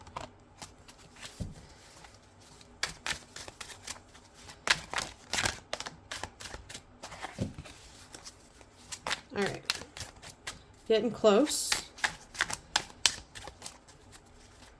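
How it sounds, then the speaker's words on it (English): Tarot cards riffle and snap in repeated shuffling bursts, close up, while a person talks quietly in between. "I like to shuffle till the cards feel a little heavy."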